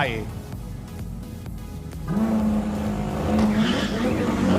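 A Ferrari SF90 and a McLaren 720S launch side by side at the start of a 1000 m drag race at Buriram circuit, engines droning and then rising into a loud, strained roar, with a commentator talking over it.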